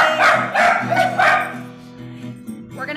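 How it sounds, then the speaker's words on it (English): Dogs bark repeatedly at home in a rhythmic burst of loud, close yips and bow-wows, trailing into quieter whimpers, with faint household voices in the background. "We're gonna have some good dog barking going on for a couple of minutes, probably."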